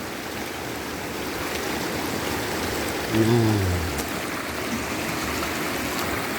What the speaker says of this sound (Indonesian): inilah sungai